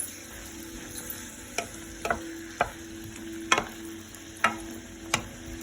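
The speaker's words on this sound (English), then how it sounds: "We're going to mix this up, saute it." Asparagus risotto ingredients sautéing in a pan over a medium flame, a soft steady sizzle broken by occasional sharp clicks and scrapes from stirring, close and fairly quiet.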